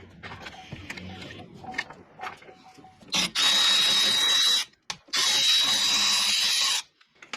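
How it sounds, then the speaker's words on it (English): Impact wrench working on a Chevy Impala front brake caliper mounting bracket: two loud sustained whirring bursts of about a second and a half each, separated by a short pause, after some quieter clinks and handling noises. "I'm going to see if my impact will fit in there"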